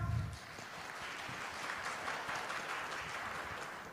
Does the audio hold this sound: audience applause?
yes